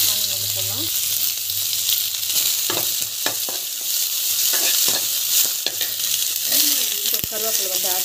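Onion sizzles and crackles in hot oil in a pan, a loud steady frying hiss broken by scattered pops and scraping stirs, with brief quiet talk.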